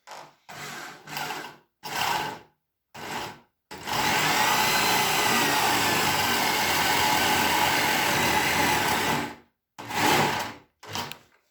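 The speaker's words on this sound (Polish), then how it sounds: "I teraz patrzę sobie, żeby wiertło szło w linii w osi tego, co wyznaczyłem w rysunku." A power drill bores a hole into a timber beam for a tractor shed roof, short whirring bursts starting and stopping, then one long steady run of about six seconds, followed by more brief bursts, close and loud with no talk.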